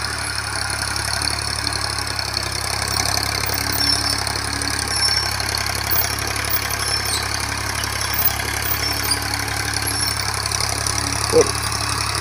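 A 1988 Ford 3600 tractor with a disc harrow idles close by, a steady, even diesel rumble that runs unbroken and alone for the whole stretch.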